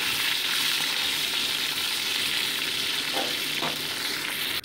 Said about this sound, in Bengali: সেই জন্য একটা একটা করে মাছ আমি ভেজে নিচ্ছি।